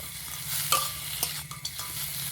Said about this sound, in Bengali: আবারও ভালো করে একটু নেড়ে চেড়ে মিশিয়ে নেব।